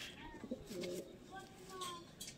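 Pigeons coo softly in a loft housing quality Andhra pigeons, low murmuring calls mixed with faint chirps and a murmur of voices in the background.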